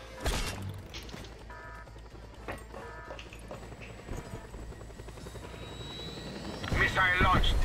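Helicopter in the video game Just Cause 2, a steady rotor thrum running under the whole stretch and swelling louder near the end, with game voices and bursts of action sounds over it.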